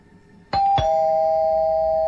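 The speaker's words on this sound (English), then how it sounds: "The doorbell rang" A doorbell rings on a quiet evening, two quick ding tones in succession followed by a long, steady ringing tone that sustains clearly and loudly to the end.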